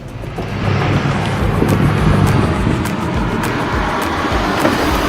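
A steady low engine hum, played through the sound system of a Citroën Basalt, fills the cabin, smooth and continuous with road and wind noise underneath, no voices.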